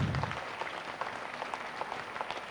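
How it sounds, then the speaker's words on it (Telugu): Audience applause at a felicitation of Tirupati masters during a spiritual gathering: a soft, steady patter of many hands clapping, fairly distant and low in level, with no talk over it. "ఆయనకు గట్టిగా చప్పట్లు కొడదాం"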